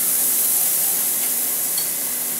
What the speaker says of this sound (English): we're just going to deglaze real quick